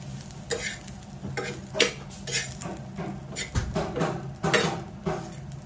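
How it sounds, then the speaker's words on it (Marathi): Coconut being dry-roasted in a pan to a golden brown for a village-style mutton curry, giving soft scraping stir strokes and faint crackle close by, repeated at an uneven rhythm with light pan clinks and no talk. "थोडस सोनेरी रंगावर असं खोबरं भाजून घ्यायचं"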